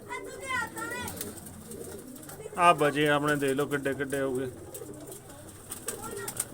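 Pigeons coo in a loft where newly built nest boxes hold grown birds, giving throaty, rolling calls that swell loudly in the middle, while someone talks at intervals.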